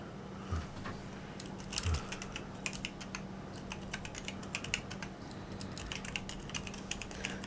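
Rapid clicking of a computer keyboard as a password is typed, close and fairly quiet, with irregular bursts of keystrokes and brief pauses over a low steady hum.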